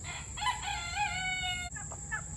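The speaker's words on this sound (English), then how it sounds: "I'm gonna film the chickens." Backyard chickens, including an olive egger hen, cluck and crow in a steady chorus close by, with the harmonic calls rising and falling over a constant low background hum.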